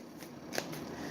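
Cards riffle and slap together in a brief shuffle, a quiet close-up flutter of paper with a couple of crisp snaps.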